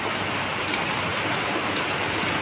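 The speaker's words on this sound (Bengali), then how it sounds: "মাঝে মাঝে খুব বড় বড় ফোঁটা পড়ছে" Sudden monsoon rain with big drops falling, a dense continuous hiss that stays loud and even throughout, with no voices.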